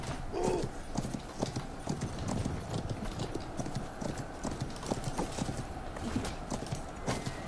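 Horse hooves clip-clop in a steady drumming rhythm during a medieval battle in the game Conqueror's Blade, with a brief whinny near the start and faint battle noise underneath.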